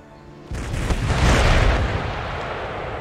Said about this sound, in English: It was the first volley of artillery fire.